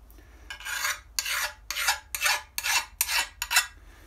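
A hand file rasps along the sharp edge of a metal engine plate in seven steady, evenly spaced strokes, close and clear with no talk.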